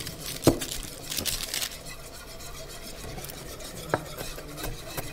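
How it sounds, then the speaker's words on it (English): Grits are poured slowly into boiling water in a wok, giving soft rustling and stirring scrapes with a few sharper taps over a steady low background. "Slowly add the grits."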